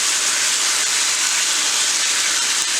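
A can of diced tomatoes hits a pan of cooking peppers and garlic, setting off a loud, steady, hissing sizzle that holds unbroken throughout.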